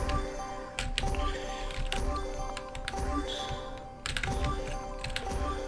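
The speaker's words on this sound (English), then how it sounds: "That password typing was annoying." Rapid keypad presses as a password is entered in a Fortnite Creative map, a quick run of clicky taps with short pauses, with some game ambience underneath.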